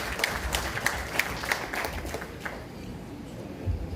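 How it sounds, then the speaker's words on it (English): A small audience at a microcredit program launch gives a brief round of applause. A few distinct claps come first, and then the clapping softens into a faint, thinning patter. "Ladies and gentlemen, a round of applause for Miss Baybon Sangi."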